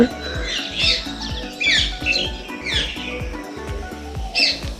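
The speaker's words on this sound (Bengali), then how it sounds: "চারিদিকে পাখির আওয়াজ শুনতে পাচ্ছ" Several birds chirp and squawk in quick bursts over a steady rhythmic background clatter, fairly close, with no talking.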